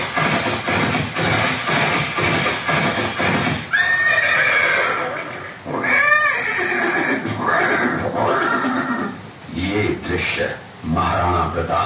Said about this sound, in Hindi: महाराणा प्रताप और सुविख्यात स्वामी भक्त घोड़े चेतक के अंतिम मिलन का है।